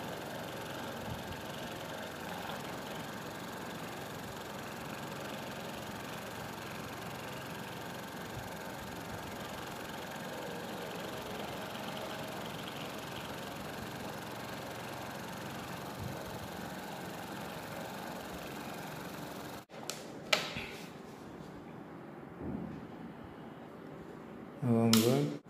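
An energy-efficient three-dimensional BLDC motor running under a brushless controller gives a steady, even hum and whir for about twenty seconds, then cuts out into handling clatter and a brief burst near the end.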